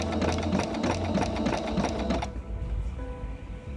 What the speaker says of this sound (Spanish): Estoy pasando costura con una sola mano, entonces vamos a estarlo haciendo despacio.